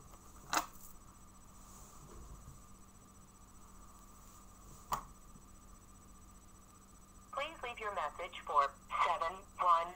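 An outgoing phone call rings out as a faint steady tone on the line, broken by two sharp clicks, before voices start talking near the end.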